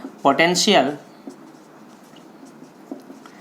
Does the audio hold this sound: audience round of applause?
no